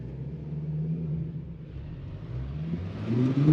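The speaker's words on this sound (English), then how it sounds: "Do you guys want to hear some revs?" A 2006 Ford GT engine revs inside a tunnel, a steady low rumble that swells toward the end as the revs climb, loud and close with no talking.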